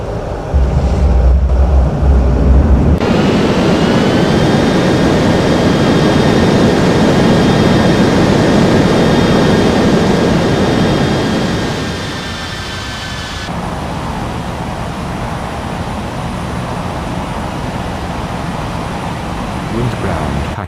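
A jet airliner spools up and roars down the runway for takeoff in an air traffic control game, a steady loud engine drone with rising whine that drops back to a softer hum near the end.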